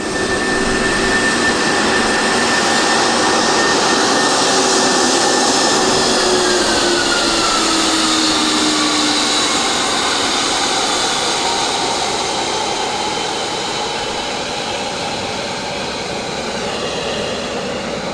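A business jet taxis at Luton airport, its engines a loud, steady roar with a whine that slowly shifts in pitch, close by and continuous for the full length with no voices.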